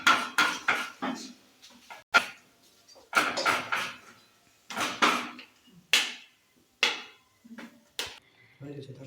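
Cooked patishapta being placed onto a plate in a home kitchen, a series of sharp clinks and clatters of dishes and utensils at an uneven rhythm, close and fairly loud, with a voice talking between them.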